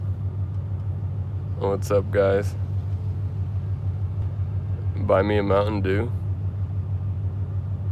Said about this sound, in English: He left the car on.